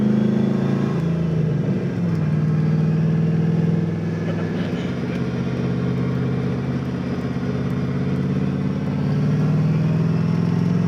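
A Volvo sleeper fitted with a big-turbo LS6 V8 running on all eight cylinders pulls steadily, its deep engine drone loud and close throughout, with the pitch shifting as it accelerates.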